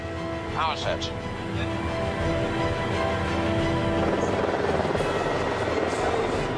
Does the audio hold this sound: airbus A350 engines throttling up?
yes